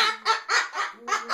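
A parrot imitates a rooster's crow in several short, harmonic bursts, close and fairly loud, with no talking.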